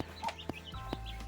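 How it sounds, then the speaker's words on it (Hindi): Desi (local breed) chicks chirp nearby, a few brief, faint high peeps spaced a little apart over a quiet background. "देखो छोटे छोटे चूजे भी पाले हैं इन्होंने"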